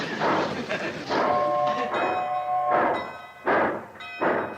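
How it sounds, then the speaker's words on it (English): A steam locomotive whistle sounds in several sustained blasts of varying length, fairly near, with voices and background noise around it. "Who's blowing that locomotive whistle?"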